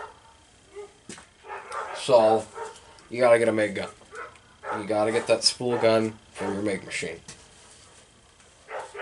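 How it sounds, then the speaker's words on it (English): Dogs barking in the background of a welding shop, short yips and barks mixed under someone talking up close. "And I'm sorry about the dogs."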